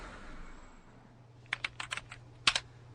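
Typing on a computer keyboard, a quiet background hum followed by a short burst of close, crisp key clicks, then a brief pause and a couple more sharp taps.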